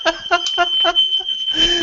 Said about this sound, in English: My smoke alarm's gone off again.